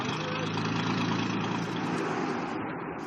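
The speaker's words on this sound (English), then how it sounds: "The lifeboat engine must also be started and operated." A freefall lifeboat's engine runs at a steady, even rumble for a few seconds, fairly close, with no break in the drone.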